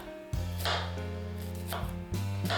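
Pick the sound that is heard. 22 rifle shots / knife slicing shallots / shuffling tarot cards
knife slicing shallots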